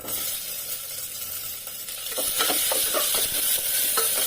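Onions sizzle in hot oil with spices for palak paneer rice, a steady frying hiss that grows louder and crackles more after being stirred partway through, close and with no talk.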